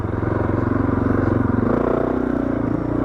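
A Suzuki DR650 motorcycle climbs a steep dirt track, its single-cylinder engine thumping in a loud, steady pulsing rhythm close to the microphone, with faint clatter from the terrain.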